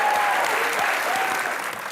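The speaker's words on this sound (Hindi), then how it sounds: "कमान तालियां" A comedy show studio audience bursts into dense, steady applause, loud and close, with a faint cheer riding on top before it tapers slightly at the end.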